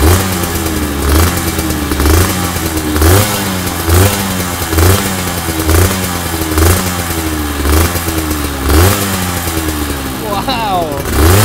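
Aprilia RS 250 two-stroke 250 cc twin-cylinder motorcycle revving, loud and close, with repeated rhythmic throttle blips rising and falling about once per second over a raspy idle.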